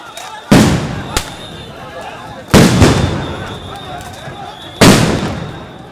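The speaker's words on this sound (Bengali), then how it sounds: "আবারও সাউন্ড গ্রেনেড ছোড়ে পুলিশ।" Police sound grenades explode at a street protest near Dhanmondi 32 in Dhaka, three loud sharp blasts a couple of seconds apart, each with a ringing decaying tail, plus a smaller pop after the first, over outdoor crowd noise.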